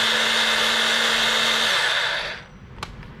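Panasonic 28.8V cordless rotary hammer spinning in drill-only mode without hammering, a loud steady whine that winds down and stops after about two seconds, followed by a faint click.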